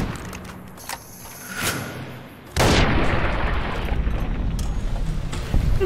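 Gunfire at a gecko in Fallout New Vegas. After quiet background noise, a sudden loud shot bursts out and leaves a sustained, rough roar behind it.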